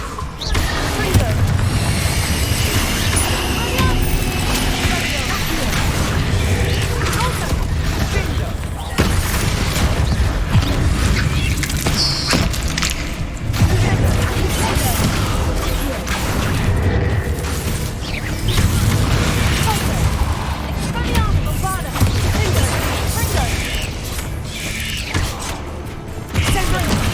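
Repeated fiery blast spells cast in a Hogwarts Legacy battle, booming bursts and crackling impacts layered over continuous combat clatter and mechanical creaks throughout, with a voice speaking over the fight.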